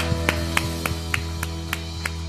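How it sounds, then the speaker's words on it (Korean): A church congregation claps in a steady, even rhythm, about four beats a second, over a sustained low tone. "하나님께 영광의 박수 드리겠습니다"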